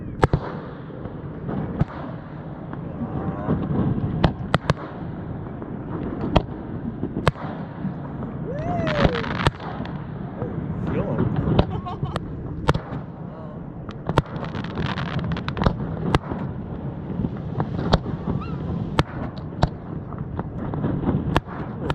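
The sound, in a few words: fireworks over harbor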